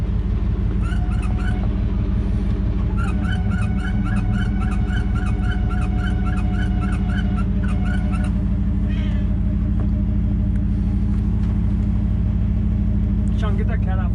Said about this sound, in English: get that cat off of here.